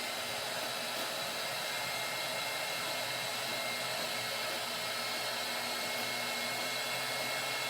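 A steady, loud blowing whir from a heat gun warming epoxy on a tumbler runs continuously throughout, with no breaks and no talking.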